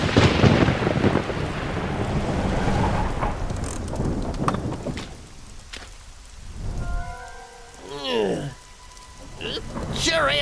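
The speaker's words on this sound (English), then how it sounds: "Sure is raining hard." Heavy rain pours steadily with a low rumble of thunder, while whining, wavering tones come and go in the second half.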